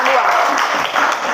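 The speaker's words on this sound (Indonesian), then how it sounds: "Kita berikan tepuk tangan untuk kelompok" Students in a classroom applaud a presenting group, a brisk mass of clapping running throughout with voices mixed in underneath.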